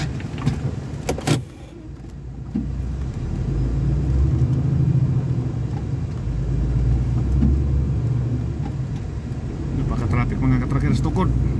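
Heavy traffic on a European motorway heard from inside a moving van, a steady low road rumble and engine drone with a few rattles, under continuous talk from people in the van.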